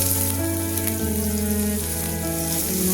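Onion and chili frying in a pan of ginger and garlic give a steady, dense sizzle that plays continuously under background music.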